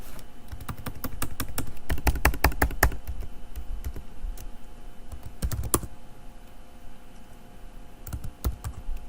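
Someone types on a computer keyboard in bursts of quick, close clicks with short pauses between, alone with no talk.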